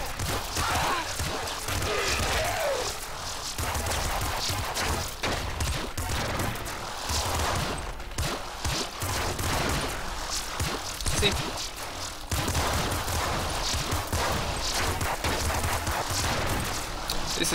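An energy screwdriver weapon fires in a video game, loosing rapid, crackling bursts of blasts and impacts that run almost without pause, layered with other dense game effects.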